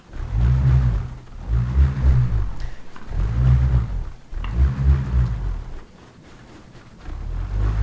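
A prehistoric-style bullroarer, a flat piece with an end hole tied to a string, whirled around: a deep pulsing roar that swells and fades in regular waves, close and loud.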